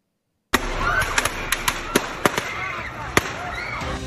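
Gunfire on South Street in Philadelphia on a Saturday night during a mass shooting: a string of about ten sharp, irregular pops, some close together, cracking over a steady outdoor background hum.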